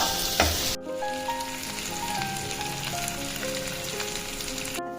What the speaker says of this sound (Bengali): আলুগুলোকে আমি একটু নুন হলুদ দিয়ে ভেজে নিচ্ছি